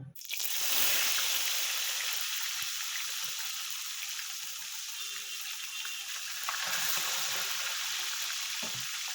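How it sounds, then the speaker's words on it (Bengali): Tilapia fish dropped into hot oil, a loud bursting sizzle that settles into a steady, bright crackling fry, close and continuous with no talk. "এবার তেলটা গরম হয়ে গেছে, আমি মাছটা দিয়ে দেবো ভাজার জন্য।"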